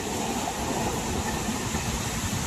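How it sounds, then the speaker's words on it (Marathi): A train rolls past near the Ukshi waterfall in Konkan, a steady low rumble of wheels and carriages holding evenly throughout, moderately distant, with no talk over it. "हा, ट्रेन आली रे, आली."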